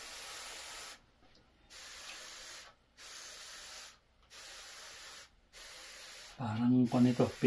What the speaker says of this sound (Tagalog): Ito naman ang ipang-i-spray ko.